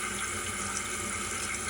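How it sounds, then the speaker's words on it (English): A Kohler toilet, its flush-valve canister just repaired, refills with water in a steady close hiss and rush that carries on evenly throughout, with no talking. "Now it'll actually fill the bowl back up"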